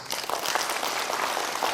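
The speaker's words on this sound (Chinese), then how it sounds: "来鼓掌一下。" Steady applause from an audience at a talk honoring a Hong Kong-born man who qualified as a psychologist in Taiwan, a dense, continuous wash of many hands clapping throughout with no voices over it.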